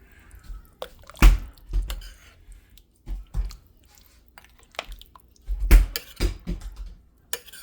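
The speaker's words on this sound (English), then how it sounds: "So we're gonna mix it all up." Homemade chili ingredients being mixed in a pot, with irregular wet squelches and soft scraping knocks spaced through the stretch, close and fairly loud in an otherwise quiet kitchen.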